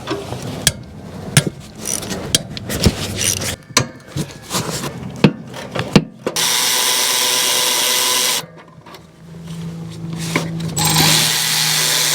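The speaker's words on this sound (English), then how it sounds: "First thing I'm going to do is take out these bolts that hold this heat shield over the manifold so that we can get to those manifold bolts." 12 mm bolts come off an exhaust heat shield over the manifold of a Toyota Matrix: a run of sharp ratchet clicks and metallic clanks, then a sustained mechanical whir, then more clicking, close and loud.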